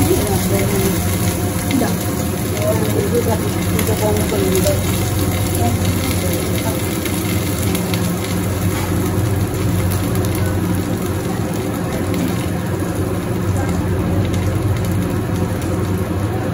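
Ginger and green chili frying in hot oil on a high flame, a dense, steady sizzle and crackle that fills the whole stretch, with a voice talking faintly underneath.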